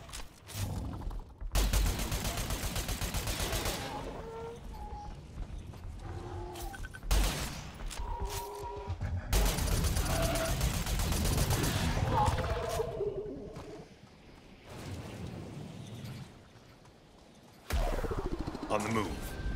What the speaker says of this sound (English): Your rifle shots are now faster and inflict more damage at range.